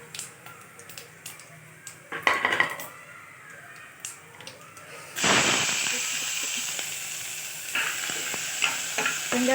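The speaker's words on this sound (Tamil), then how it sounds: "நம்ம நறுக்கி வச்சுருக்க வெங்காயத்தை சேர்த்துக்கலாம்." Chopped onions hit hot oil in a pan for white kurma, bursting into a loud, steady sizzle midway that carries on to the end, with stirring clinks and an earlier short burst of frying.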